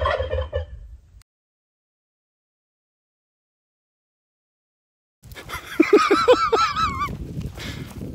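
After a short noise and a long stretch of silence, turkeys break into a loud, close burst of rapid, warbling gobbles outdoors.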